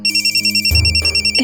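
A telephone rings with a repeating electronic trill in rapid regular pulses, loud and close, while a lower rumbling noise briefly joins midway.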